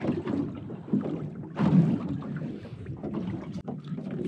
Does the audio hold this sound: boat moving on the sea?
yes